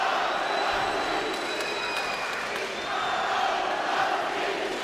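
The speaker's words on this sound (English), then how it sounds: "A chant for Kownacki by the crowd." A boxing arena crowd chants for a Polish heavyweight fighter, a broad, sustained roar of many voices filling the space at steady loudness.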